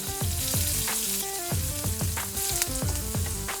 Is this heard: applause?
no